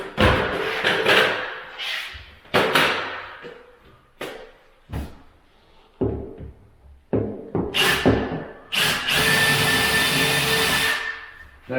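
A power drill whirring into an upper kitchen cabinet in several short bursts with pauses between, then running in one longer, louder stretch near the end.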